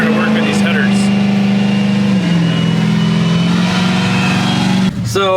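A well-worn Ford Windsor V8 fitted with headers runs in a hot rod, loud and close with a steady rumbling idle that briefly dips near the end.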